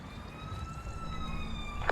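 A wailing ambulance siren in an emergency dispatch video game rings out steadily for about two seconds with a sustained tone, set over a low rumbling game background.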